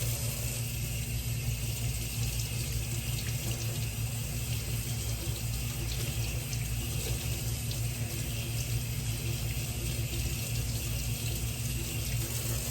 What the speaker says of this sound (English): Once I rinse it off, I drop it in the water.